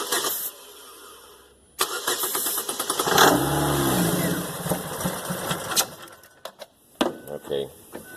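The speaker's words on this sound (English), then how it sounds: "Go ahead and crank it." A car engine cranks and catches, with the starter churning before the engine fires and runs roughly, then revs unevenly and stutters; people talk nearby over it.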